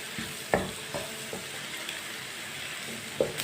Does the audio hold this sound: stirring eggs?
yes